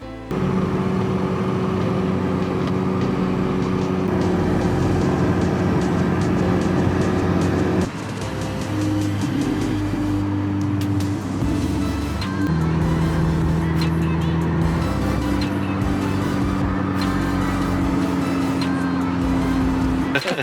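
A Mini Cooper R53 engine runs hard and steady on a dyno rolling road, a loud continuous drone with sustained tonal whine that shifts pitch partway through, close and uninterrupted.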